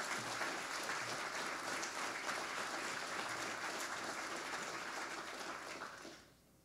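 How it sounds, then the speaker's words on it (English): Sustained audience applause at the Hackaday Prize award ceremony, a steady dense wash of many hands clapping that holds for several seconds and then fades out at the end, with no talk over it. "Let's have another round of applause."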